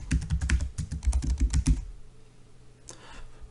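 A password being typed on a computer keyboard into a registration form, a quick close burst of about a dozen keystrokes for under two seconds, then near silence with one faint later tap.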